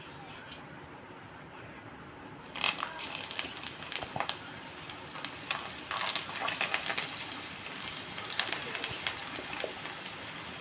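Amaranth leaf and peanut pakodas frying in hot oil, a steady crackling sizzle with dense popping and spitting that starts abruptly after a quiet opening and continues close-up.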